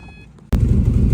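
A Subaru WRX engine cranks and fires into a loud, steady idle after a short quiet lead-in; the running note sounds rough and uneven, consistent with a misfire, and no voices are heard.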